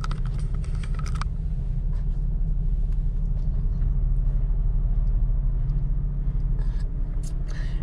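A 2006 Nissan Xterra rolling over rough, broken roads, with a low steady road rumble and bursts of rattling and clicking from the cabin, and no one speaking.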